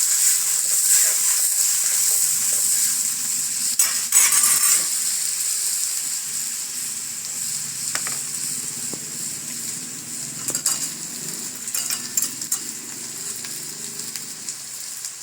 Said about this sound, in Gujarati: આપણે આ ટમેટા નાખી દઈશું અને સરસ રીતે મિક્સ કરી લઈશું